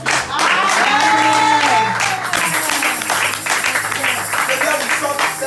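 A church congregation bursts into loud applause and cheering to acclaim the Lord, a sustained crowd roar with a voice calling out over it before the clapping thins.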